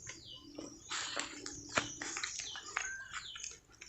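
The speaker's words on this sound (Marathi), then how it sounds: "शांत वातावरण आणि फक्त पक्ष्यांचा किलबिलाट आणि इकडे नदीचा आवाज येतोय." Several birds chirp and call in a quiet forest beside a river, bright varied tweets and short trills close by over a soft, steady background wash of flowing water.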